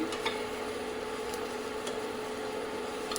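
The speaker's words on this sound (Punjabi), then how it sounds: "ਲਓ ਜੀ ਆਪਣੇ ਪਿਆਜ਼ ਭੁੱਜ ਗਏ" Onions fry in a kadai, a continuous close sizzle with soft scraping as they are stirred and a couple of light metallic taps.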